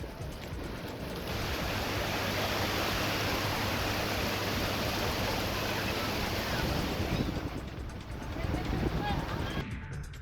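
Sea waves wash onto a beach on the Raigad coast, a loud, steady, broadband surf roar that holds for most of the stretch, then thins briefly near the end before swelling again.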